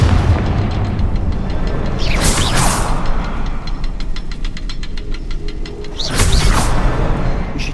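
Two loud blasts from the Confringo spell in Hogwarts Legacy burst out, one near the start and one near the end, each a sharp boom with a crackling tail over low rumbling game ambience.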